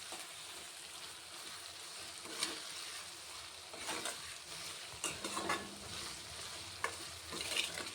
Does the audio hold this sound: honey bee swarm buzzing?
no